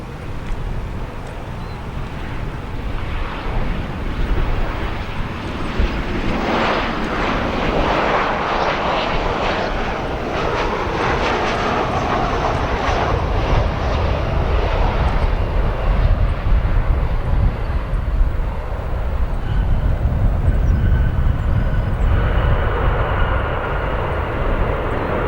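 A Southwest Boeing 737-700 airliner landing at O'Hare, a steady broadband engine roar with rushing wind noise that swells and holds loud throughout.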